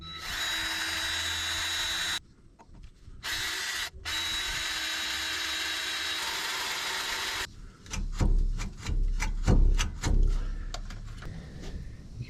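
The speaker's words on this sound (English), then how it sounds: "I'm going to try to drill this thing out." A power drill whines steadily in long bursts, cutting out briefly, then gives way to choppy grinding and knocking as the bit bites into a metal bolt on a Case 170B excavator's Deutz diesel exhaust.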